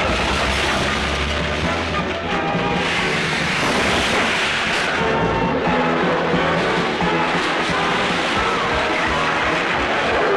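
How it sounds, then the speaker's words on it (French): A loud, steady roar of an airplane taking off fills the whole stretch, broad and continuous with no breaks, rising slightly toward the end. "Attention, attachez vos ceintures, on va décoller."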